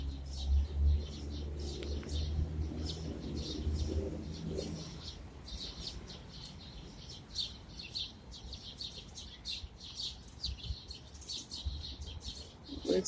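Pigeons at a nest in the city give repeated high chirping calls in quick clusters, persistent and fairly close, with a low rumbling hum beneath during the first few seconds.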